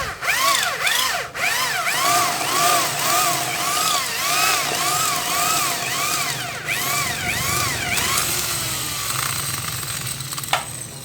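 A power drill bores out four rivets on a washing machine's spin-dryer motor. A loud, close whirring rises and falls in repeated pitch swoops as it bites, then winds down around eight seconds.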